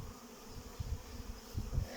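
Carniolan honey bees buzzing at an apiary, a steady close hum with slight swells in intensity throughout and no voices.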